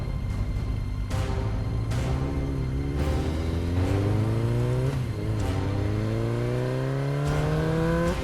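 A motorcycle engine in the Roblox game Clone Tycoon 2 revs repeatedly, its pitch climbing in several rising sweeps with brief drops between gear shifts, loud and continuous throughout with no talking.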